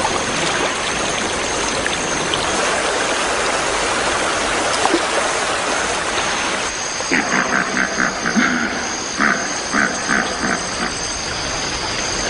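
A small African river flows with a steady, broad rushing wash, loud and close, with a few faint tonal calls rising over it toward the end.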